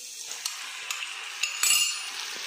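Julienned capsicum and blanched tomato are stirred in a frying pan over a soft sizzle. A spoon scrapes and clinks against the pan in irregular strokes, close by, with no talking.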